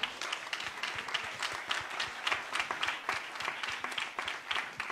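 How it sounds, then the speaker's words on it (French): Applause from a small group at a Grand Raid press conference on Réunion, honouring trail runners. The clapping is moderate and somewhat sparse, with individual claps audible, steady for the whole stretch. "Applaudissements!"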